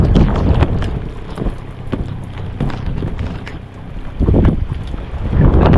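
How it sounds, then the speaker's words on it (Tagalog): Strong gusting wind buffets the microphone in loud, rumbling surges, rising and falling continuously, with water sloshing around a small boat. "Malakas ang hangin."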